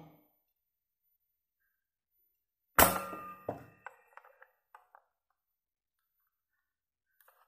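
A toy KG-9 pistol from the 1980s fires once with a sharp metallic crack, followed by a quick second clack and several small rattling ticks that fade into silence.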